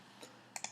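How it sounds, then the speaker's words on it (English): Two quick, sharp computer mouse clicks in close succession, a double click made while opening a downloaded tar.gz archive on a computer, crisp and near against a faint steady background hiss, with one softer tap just before. "Now I expand it by double clicking"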